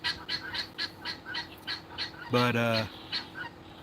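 A rooster gives one short, loud, harmonic crow in the middle, set against a run of quieter rhythmic clucks or squawks, with a single brief spoken word near the start.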